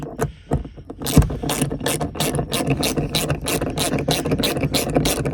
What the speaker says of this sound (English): All right, go ahead and take our wrench.